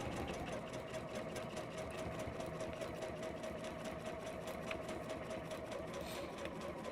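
A sewing machine runs at a steady, rapid pace while stitching quilt binding with plastic tucked into the fold. Its even mechanical chatter is faint and continuous, with no pauses and no talking.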